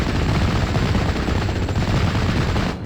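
Machine gun fire in the Steel Division: Normandy 44 video game, dense continuous rattling bursts layered into a steady loud barrage throughout, with no pauses.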